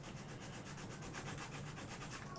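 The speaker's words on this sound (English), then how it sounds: "And then we're going to run our sanding stick over." A sanding stick is rubbed back and forth over a cut in a scale model, making a faint, close, even scratching in quick regular strokes.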